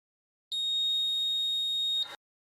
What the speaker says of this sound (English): So that fire alarm panel's beeping again.